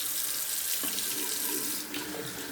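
Water runs from a bathroom tap into a sink as the face is wetted for a shave, a steady, close, continuous splashing rush with no talk.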